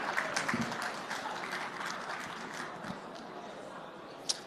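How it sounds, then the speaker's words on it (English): Conference audience at Wiki Expo Dubai 2024 applauds steadily, a dense wash of clapping that slowly fades, with a few louder claps near the end. "Round of applause, please."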